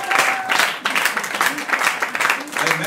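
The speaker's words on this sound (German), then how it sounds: "Applaus für Michael!" A live show audience breaks into loud applause, dense clapping from many hands that surges in waves, with voices and some cheering mixed in.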